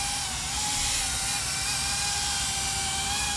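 A GEPRC CineLog30 FPV drone flies steadily with a loud, continuous high-pitched whine from its propellers and motors, unbroken and close for the whole stretch, with no voices.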